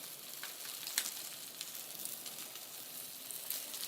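A steak sears undisturbed in a hot pan, giving a steady, fairly quiet sizzle with occasional small pops and crackles across several seconds and no talking over it.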